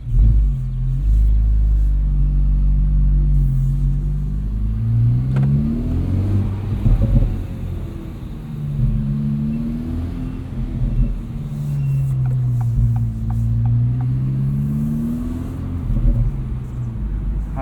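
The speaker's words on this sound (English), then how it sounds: "really liking the sound of this exhaust" A 2024 Acura Integra Type S exhaust note rumbles steadily as it drives, rising and falling with revs in a continuous deep drone, close and fairly loud, with no talking.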